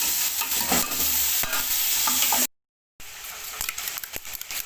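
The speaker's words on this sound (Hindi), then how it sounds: "इसको तकरीबन 4 से 5 मिनट मैं इसकी भुनाई करूँगा।" Vegetables and chicken for pulao frying in a pot, a steady loud sizzle with scraping stirs, cut by a brief silent gap before the sizzling resumes.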